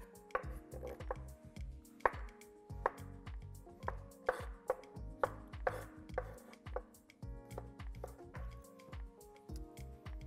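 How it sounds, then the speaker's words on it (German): Repeated knife cuts slice king oyster mushrooms on a cutting board, quick irregular chops close by, with faint background music. "Zum ersten Kräuterseilingen Scheiben schneiden."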